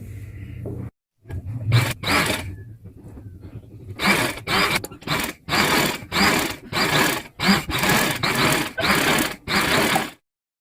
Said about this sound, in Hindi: अब इस पे ना एक एक्स्ट्रा ऐसी ही सिलाई लगा लूंगी ताकि मेरी चुनटे आगे पीछे हिले नहीं